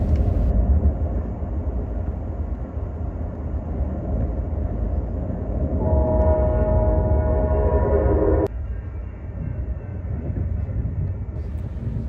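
An Amtrak Pacific Surfliner train rumbles steadily along the rails pulling into Old Town station, a continuous low roar with a brief tonal squeal of wheels or brakes as it slows.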